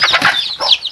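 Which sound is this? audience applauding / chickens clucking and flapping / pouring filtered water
chickens clucking and flapping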